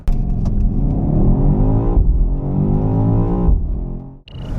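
A 2023 BMW XM plug-in hybrid with a V8 and electric motor accelerates hard, its loud engine note climbing in pitch through two gear shifts with brief dips between them, close and continuous with no talking.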